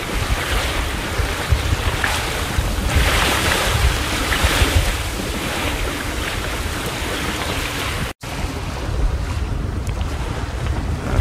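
Strong southeast wind of about 18 to 20 knots buffets the microphone aboard a boat heading from Hervey Bay toward Brisbane, with loud continuous gusting and wave wash that cuts out briefly near the end.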